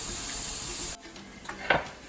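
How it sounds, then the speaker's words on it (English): Lentils sizzling in a hot pan, a bright close hiss that cuts off sharply after about a second, followed by quieter kitchen clatter. "you have to let it sizzle and then turn the heat down, because you don't want to burn the lentils immediately"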